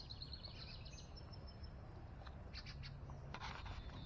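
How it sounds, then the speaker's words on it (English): Several birds chirp and trill in short bursts over a soft outdoor hiss in a vegetable garden, fairly faint and scattered across a few seconds. "Pretty sounds. Lots of birds."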